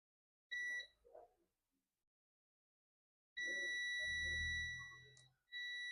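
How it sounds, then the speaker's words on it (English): A multimeter in continuity mode beeps steadily as its probes bridge a shorted MOSFET on a Dell Latitude E5250 logic board, giving two sustained electronic tones separated by a short silence. "Whoa, the MOSFET is shorted. You can see it's beeping."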